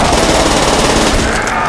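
Rapid automatic fire from an StG assault rifle in Call of Duty: World at War zombies, a dense, loud, continuous burst of shots close up with no gaps.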